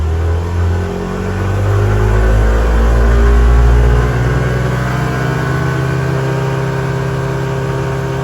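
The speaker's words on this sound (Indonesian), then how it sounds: "Untuk RPM lebih tinggi aja, Mas. gas ratanya." Motorcycle engine on a dynamometer in a workshop revving up to high RPM, a loud close roar that climbs and holds before easing to a steady drone.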